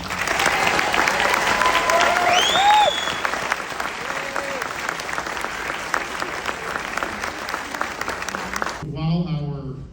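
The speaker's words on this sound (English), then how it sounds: "One more round of applause for the Jays." A school audience gives the Jays a loud, sustained round of applause and cheering, with whoops rising over the clapping, then the noise cuts off suddenly near the end.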